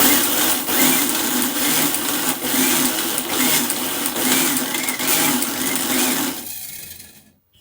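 An electric mixer whips coffee in a loud, close, steady whir with slight pulsing, then is switched off and winds down to silence in the last second.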